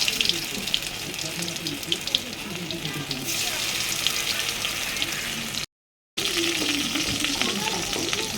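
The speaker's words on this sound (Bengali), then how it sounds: "পাতা ফোড়ন দিয়ে আলুগুলো দিয়ে দিচ্ছি।" Potatoes dropped into hot oil with panch phoron, a loud continuous close-up frying hiss with bubbling crackle and occasional stirring, briefly cut to silence partway through.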